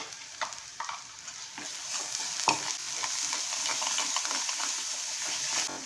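Spice paste with red chilli masala fries in a pan for a Maharashtrian matar paneer, a continuous soft sizzle broken by scattered spoon scrapes and clinks, close but moderately quiet, with no talking.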